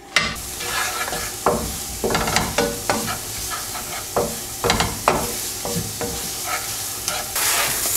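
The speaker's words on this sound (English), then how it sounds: "we can add the carrot. So let it cook a little bit." Carrot pieces sizzle and fry in a pan while being stirred, a steady close crackle broken by repeated scraping stirs, with no talking.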